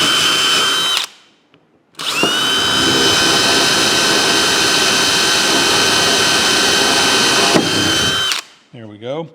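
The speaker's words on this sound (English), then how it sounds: "I'm gonna drill a hole." A power drill whines loudly, briefly stops, then runs steadily for several seconds drilling a hole for a steel-framed workbench before cutting off, followed by a short faint voice.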